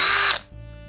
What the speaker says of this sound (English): I'm going to pre-drill, and then I will attach the top